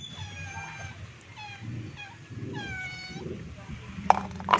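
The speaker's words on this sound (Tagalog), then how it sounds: "O, ayan po, nagdadatingan na yan, mga pusang kalye." Hungry street cats gather at feeding time, several meowing in turn with drawn-out, rising and falling cries, close by, with a few soft clinks near the end.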